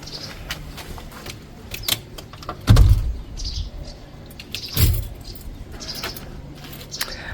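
Door of a holiday apartment on a Camposol house being opened with keys, giving a couple of heavy close thuds and scattered metallic clicks and jingles over a quiet background with faint birds.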